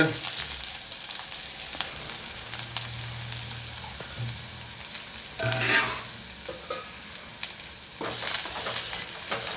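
A finely sliced medium onion fries in oil in a pan, giving a continuous close sizzle with occasional stirring scrapes and clatters over nearly ten seconds, no voices.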